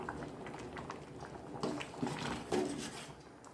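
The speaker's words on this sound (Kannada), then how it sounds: "ಚೆನ್ನಾಗಿ ಕುದಿದಿದೆ" Curry with curry leaves boiling in a pot, a soft continuous bubbling and gurgling with a few louder pops toward the end, quiet and close, no talking.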